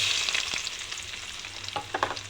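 Onions drop into hot oil for a cauliflower curry, giving a bright, loud sizzle that settles into a steady frying hiss, with a few soft stirring knocks toward the end.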